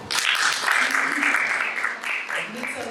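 An audience at a literature festival session claps and cheers, a dense burst of applause with voices mixed in, easing slightly near the end.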